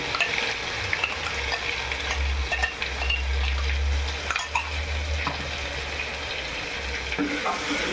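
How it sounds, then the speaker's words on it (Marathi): Ground masala with curry leaves fries in a pan for a cowpea curry, making a loud, continuous sizzle with a low hiss, while intermittent scraping shows it being stirred. "आता मसाला टाकायचा वाटलेला"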